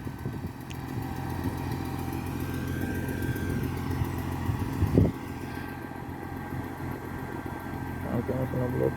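A concrete pump truck's diesel engine runs steadily at a construction site, a low idling drone with a sharp clatter partway through, under occasional talk.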